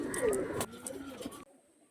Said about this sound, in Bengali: অনেকটাই দামি পায়রা